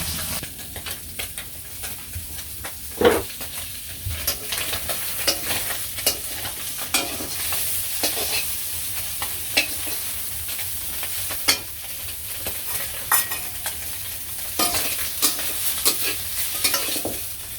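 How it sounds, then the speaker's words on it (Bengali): Fish frying in a pan during village cooking in Bangladesh, a constant close sizzle broken by scattered clicks and scrapes of stirring, no talk. "এই যে মাছ ভাজা কিনা হয়ে গেছে।"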